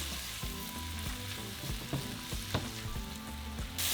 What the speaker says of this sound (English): so once your oil is hot, we're going to add our onions and tomatoes.